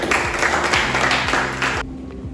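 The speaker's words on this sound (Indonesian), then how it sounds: "Sekali lagi tepuk tangan buat kelompok" Applause from an audience for a student group after a classroom presentation, a dense burst of clapping lasting nearly two seconds before it stops abruptly into quiet.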